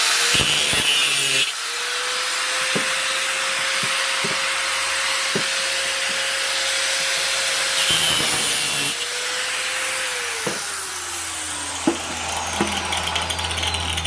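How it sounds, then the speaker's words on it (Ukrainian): A power tool cutting off two screws, a sustained whining grind with a steady tone that dips and shifts as the cut progresses, interrupted by brief clicks and knocks, close and loud. "Поки я відрізаю цих два шурупи"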